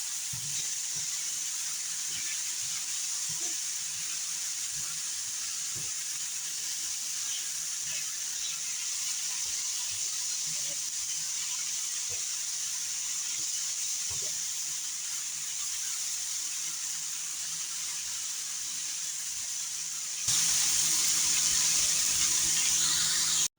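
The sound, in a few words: mushrooms and onions sizzling on a griddle pan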